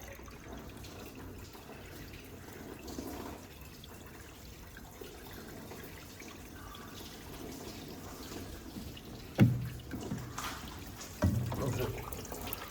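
Liquid flushed through the oil system of a BMW E60 trickles and drips steadily in a workshop, with a couple of louder splashes or clunks near the end.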